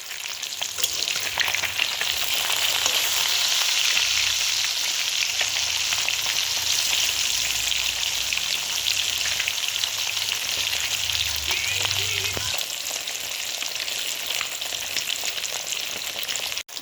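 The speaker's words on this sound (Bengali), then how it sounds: "মাছের একটা পিঠ ভাজা হয়ে গেছে, এবার অপর পিঠটা উল্টে দিচ্ছি।" Catla fish pieces sizzle and crackle steadily in hot mustard oil after being flipped, a dense, loud frying hiss that continues throughout with no voices.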